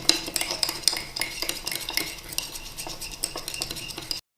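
A spoon beats instant coffee, sugar and water together in a cup into a creamy mix, producing rapid, continuous close clinking and scraping against the sides, steady for several seconds.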